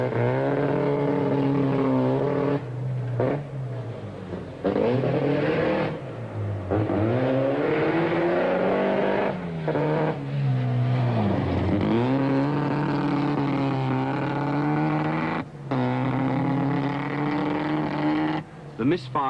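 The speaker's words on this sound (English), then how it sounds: "Misfiring, now plainly audible, loses him time and causes him to replace his carburetor at the end of the stage" Rally car with a misfiring, faltering engine on a gravel stage of the 1978 Rally of New Zealand in the Matahuru Gorge; a loud, close engine note rises and falls unevenly with stutters, under a commentator's continuous talk.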